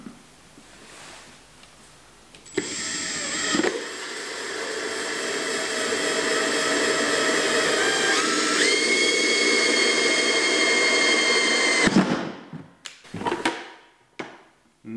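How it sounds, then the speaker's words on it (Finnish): A power drill fitted with a 51 mm hole saw bores a hole, giving a close, steady whining drone for about nine seconds that shifts pitch partway through, then stops and is followed by a few sharp knocks. "Itse käytän tässä 51 millistä reikäsahaa, koska itse en löytänyt 50 millistä. Mutta mä nyt poraan tämän reijän tähän"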